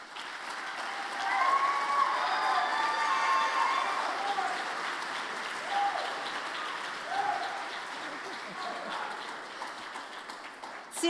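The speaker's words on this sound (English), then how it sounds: "See, I knew you wouldn't be able to hold your applause." An audience at a college convocation ceremony breaks into sustained applause, a dense patter of clapping with scattered cheers that swells, then slowly thins out.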